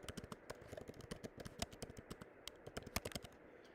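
Quick, faint clicks of a computer keyboard being typed on, irregular bursts of keystrokes close by with no voices.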